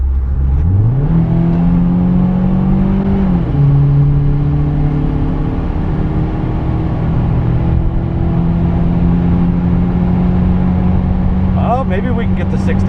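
Turbocharged Subaru pulling hard from 60 to 100, engine note rising then holding in a loud steady drone with a brief shift dip, a voice briefly audible near the end.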